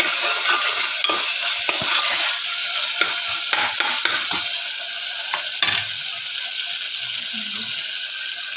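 Taro cooking with dal in a pan, sizzling steadily while a spoon scrapes and clacks against the metal in irregular strokes, close up, with the frying hiss easing toward the end.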